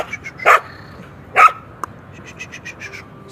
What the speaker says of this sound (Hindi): कुत्ते की आवाज़ को भौंकना कहते हैं। भौंकना, कुत्ता भौंकता है।